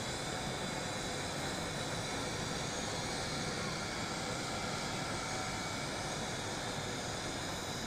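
An SJRC S70W GPS camera drone flies outdoors in wind, producing a steady, dense broadband whir and hiss that holds at even loudness throughout without a break.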